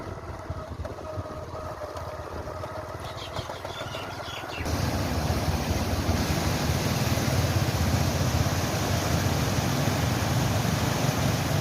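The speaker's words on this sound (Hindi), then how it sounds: "इसके पुल के नीचे से जो पानी की रफ्तार है ना इसका बहुत तेज़ है" Fast-flowing water rushes beneath a village canal bridge, a steady, loud broadband roar that swells after a few seconds into a dense, continuous wash.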